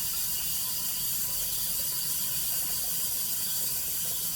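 A kitchen tap runs cold water steadily, filling a container with a broad, continuous rushing hiss close by.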